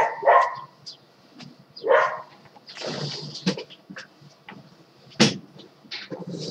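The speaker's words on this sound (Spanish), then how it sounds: "el perro del vecino un porculero que lo flipas" A neighbour's dog barks in short, sharp bursts, several loud barks spaced irregularly and heard fairly close, with quieter knocking and rustling sounds in the gaps between them.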